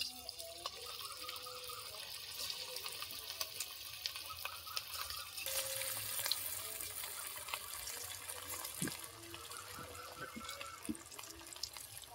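Semolina and potato snacks fry in hot oil, giving a continuous hissing, bubbling sizzle with occasional clinks of utensils, close by and without voices, for about twelve seconds.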